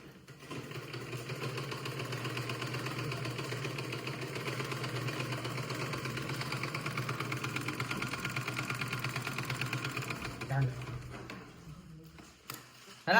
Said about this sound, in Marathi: आता आम्ही बुड्ढ्याचे कपडे शिवतो.